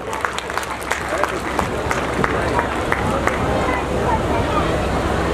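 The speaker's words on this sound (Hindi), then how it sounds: "तालियों से स्वागत करें।" A crowd at a school poetry recital claps steadily at moderate distance, a continuous patter of applause with scattered sharper claps.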